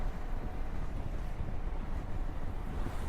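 Cold wind gusting hard against the microphone at an outdoor spot just before rain, a dense continuous low roar and rumble filling the whole stretch with no voices.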